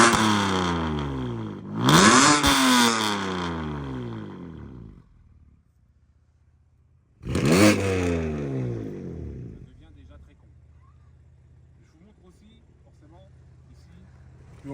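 A BMW M2 Competition with a stage 2 tune in sport mode revs hard twice, each burst climbing and falling loudly with crackling overrun, before settling to a low, burbling idle.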